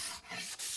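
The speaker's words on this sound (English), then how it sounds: "A paint scraper is the best tool for removing hardened finish like this" A paint scraper rubs and scrapes hardened finish off a wooden joint, two rough strokes with short pauses, close and fairly quiet.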